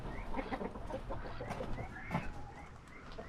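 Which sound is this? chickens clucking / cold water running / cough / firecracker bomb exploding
chickens clucking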